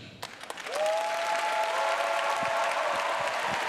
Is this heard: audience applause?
yes